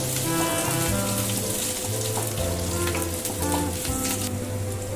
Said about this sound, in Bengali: এটা একটু নাড়াচাড়া করে তারপরে আমি এর মধ্যে কাঁচা লঙ্কা কুচিটা দেব।